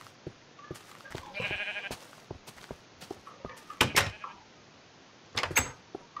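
Sheep bleats in the video game Minecraft, a couple of short bleats rising over scattered clicks and block-placing thuds.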